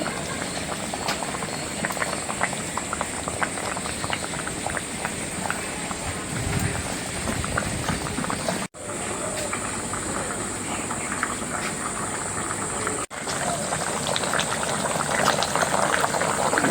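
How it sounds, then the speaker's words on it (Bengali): Potatoes boil steadily in a pot for a fish curry, a continuous dense bubbling hiss that stays even and close throughout, with two brief cuts breaking the sound. "আলুগুলি একদম মনের মতো হয়ে গেছে সেদ্ধ হয়ে প্রায় হয়ে আসছে"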